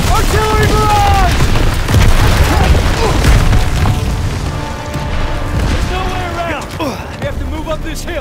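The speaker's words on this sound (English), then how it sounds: "Artillery barrage!" Rumbling artillery barrage explosions boom continuously in a Call of Duty: Vanguard campaign mission, a heavy low roar with whistling shells overhead and voices shouting beneath.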